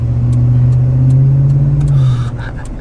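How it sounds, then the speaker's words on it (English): A Ford F-150 pickup truck drives along, its engine holding a steady, loud hum before easing off near the end, heard from inside the cab with a few faint clicks. "I drive an F-150."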